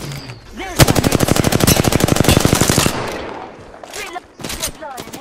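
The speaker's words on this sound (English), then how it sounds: "Listen up, I'm getting shot at" Rapid automatic gunfire in Apex Legends, loud and close, fires as a fast steady burst of evenly spaced shots for about two seconds, then scattered shots and voice chatter follow.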